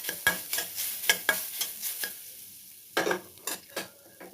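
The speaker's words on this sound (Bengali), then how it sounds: "একটু নাড়াচাড়া করে দেবো।" Grated coconut is stirred in a hot wok, with a close series of sharp scraping strokes at an irregular rhythm, roughly a dozen, over a soft sizzle and a short quiet gap midway.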